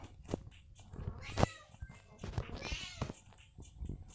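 A pet cat meows several times at close range indoors, short plaintive calls scattered through the moment alongside soft handling noises and a bit of background speech.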